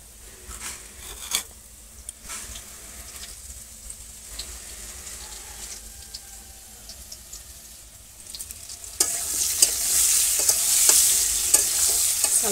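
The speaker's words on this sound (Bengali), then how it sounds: "আলুটা প্রায় ভাজা হয়ে গেছে," Potatoes frying in hot oil in a village kitchen on a coal stove, a steady sizzle with occasional stirring and scraping that swells into a loud, bright crackle near the end.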